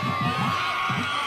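Home crowd cheering at a high school football game, Northview vs GP, a brief burst of distant crowd noise with shouts over a constant roar.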